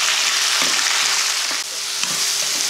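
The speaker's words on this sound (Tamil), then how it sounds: "ஒரு பச்சை மிளகாய் போட்டு இதை நல்லா இது கூட வதக்கிடுவோம்." Ginger, curry leaves, tomato, coriander and green chili sauté in hot oil, a steady close sizzle with faint stirring scrapes, no voices.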